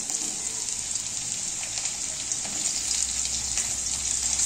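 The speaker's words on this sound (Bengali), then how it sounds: "তারপর দিচ্ছি মূলো," Radish pieces go into hot white oil already holding potato and kalo jeere, giving a steady, even sizzle of frying that runs unbroken and moderately loud from start to finish.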